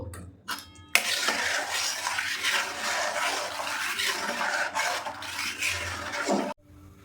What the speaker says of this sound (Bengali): অল্প অল্প করে দিয়ে দুধটা আমি মিশিয়ে নেব